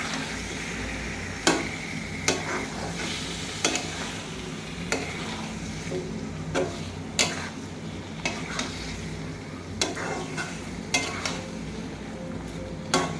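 Chicken pieces frying in a pan with already-fried spices, a steady close sizzle broken by regular clinks and scrapes of a spoon stirring against the pan, with no talk.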